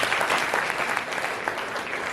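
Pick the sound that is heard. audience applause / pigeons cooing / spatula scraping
audience applause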